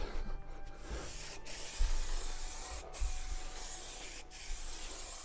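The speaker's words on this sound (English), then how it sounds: "We're going to spray it and clag it up." Adhesive sprays onto insulation board in a steady hiss throughout, broken by a few brief pauses, close and fairly quiet with no voices.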